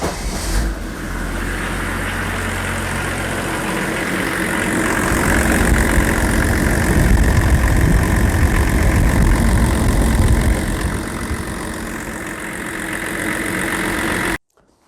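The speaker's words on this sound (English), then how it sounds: "the engine is all assembled again, and we'll try and start it and see what happens" BMW M51 2.5 engine in a Range Rover P38, freshly refitted cylinder head, cranks and fires up, then settles into a loud, steady nearby idle that swells briefly before cutting off abruptly at the end.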